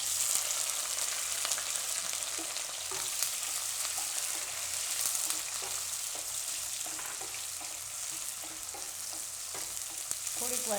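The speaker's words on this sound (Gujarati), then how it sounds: "તો હવે આપણે આમાં મરચાં નાખીશું ને ડુંગળી." Green chilies and onion frying in hot oil for mixed vegetable poha, a steady bright sizzle throughout with occasional soft stirring scrapes, close and alone with no talk.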